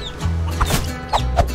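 Chickens in the video game Guacamelee! 2 cluck in short, clipped bursts over low game music, with a few quick squawks scattered through a brief moment of play.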